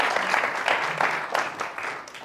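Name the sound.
applause for a local attorney at a town hall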